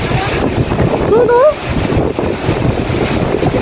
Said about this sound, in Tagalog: Nagbukas po ako ng bintana. Check ko po yung ulan hangin.